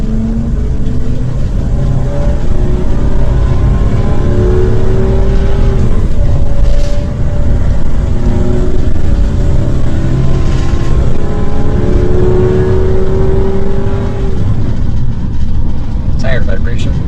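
Ford E450 van driving along with a steady loud road and engine rumble and a constant tire vibration drone, continuous throughout with no talk.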